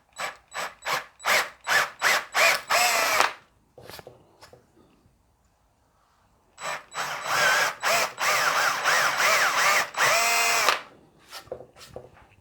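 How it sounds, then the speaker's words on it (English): A 10mm FAMAG drill bit bores holes in a Les Paul Junior guitar body for pot shafts, a power drill whirring in short repeated bursts, then a longer run after a pause, close and fairly loud. "I'm going to go with a 10mm FAMAG drill bit."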